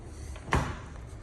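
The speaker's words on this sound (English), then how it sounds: "So now you can open the door" A single sharp thunk of a Rolls-Royce Wraith car door being worked open, close and brief, against low background rumble.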